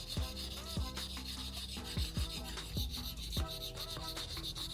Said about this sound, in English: You can really feel the difference in smoothness as I pass it over the stone.